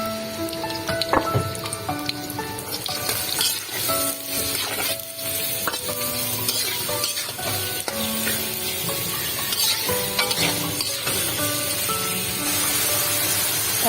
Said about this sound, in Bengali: তেল গরম হয়ে গেছে, এখন পেঁয়াজ দিয়ে দিচ্ছি।